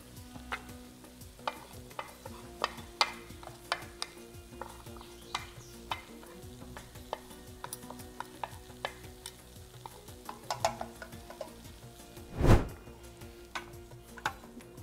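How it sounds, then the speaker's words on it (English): Beef and onions sauté in a tagine pot with a steady low sizzle, broken by frequent clicks and scrapes of stirring and one louder clatter near the end, all close and without any voices. "Saute the meat and onions together."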